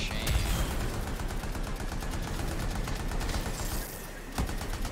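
Rapid game gunfire in Anthem, a dense run of repeated shots holding steady and loud across the whole stretch, with a single sharper crack standing out near the end and faint voices mixed underneath.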